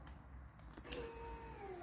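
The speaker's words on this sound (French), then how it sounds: "la pompe s'est mise en route" A car's electric fuel pump whirs on with ignition, a faint rising mechanical whine after a few soft clicks, close by in a quiet space.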